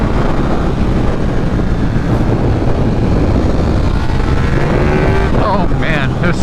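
A 2024 KTM 1390 Super Duke R Evo with a BT Moto flash, pulling hard at the top end as a loud, constant engine roar with wind rush, and a rising whine at the end.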